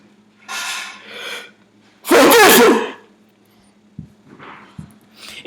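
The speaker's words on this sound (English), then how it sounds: "Sounds like I'm sneezing." Someone sneezes forcefully: two smaller breathy build-ups, then one loud explosive sneeze, followed by a few faint clicks and snorts, close and alone.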